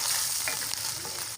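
Chopped onions drop into light-browned ginger garlic paste in a hot pan, producing a brief, bright, steady sizzle that stops sharply after about a second.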